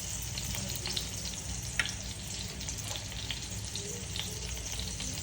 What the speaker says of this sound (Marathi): ते जिऱ्या मोहरीची फोडणी देऊन त्यात टाकून घ्यायचं